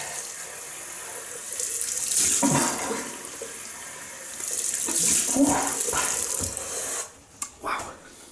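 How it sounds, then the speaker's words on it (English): Cold water running from a tap during a shave rinse, a steady close splashing stream that shifts as hands move through it, ending with a few brief splashes and drips. "Okay, cold water rinse now."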